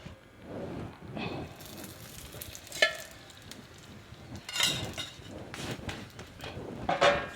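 Methi paratha (fenugreek flatbread) frying on a pan as a little oil goes in, soft sizzling with clinks and scrapes of a spoon against the pan, close and fairly quiet.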